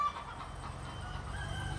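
Chickens in a rotational-grazing production garden give soft, scattered clucks at a low level over a quiet outdoor background.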